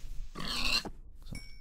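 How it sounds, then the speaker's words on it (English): A Minecraft pig lets out a single short, nasal grunt up close, followed by faint game clicks in an otherwise quiet scene. "Right, kill this last pig."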